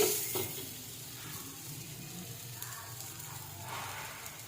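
Aloo paratha being cooked in oil in a home kitchen, a soft steady sizzle and hiss with a brief louder crackle at the start, fairly faint and continuous.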